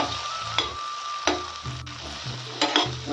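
Tomatoes and soaked puffed rice being stirred and sautéed in a pan, a steady close sizzle broken by a few louder scraping stirs, with no talking.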